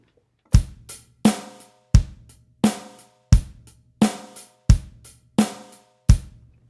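A drum kit plays a steady eighth-note groove with sharp, evenly spaced hits and lighter strokes between them, clear and alone.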